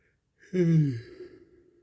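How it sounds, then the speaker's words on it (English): A single drawn-out human yawn from a tired person, rising into a loud voiced exhale and trailing off into softer breath, heard close and alone. "Sorry guys for that yawn there."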